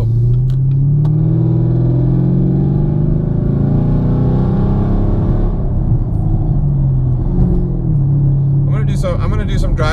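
A Chevrolet Camaro (2016–2019) fitted with a Stainless Works exhaust rumbles steadily and loudly from inside the cabin, a deep low drone that swells and eases over several seconds, with brief clicks near the end.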